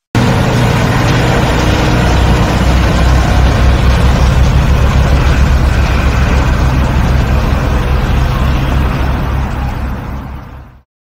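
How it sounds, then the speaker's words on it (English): A fuel truck's heavy engine runs loud and close as a dense, rough, sustained roar with crackling texture, fading slightly before stopping suddenly, and nobody speaks. "Fuel truck."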